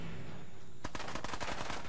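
Rapid automatic gunfire in Fallout 4 bursts out after a quiet stretch, a dense run of sharp, loud shots in quick succession with no talking over it.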